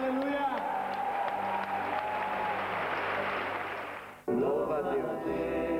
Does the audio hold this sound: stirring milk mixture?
no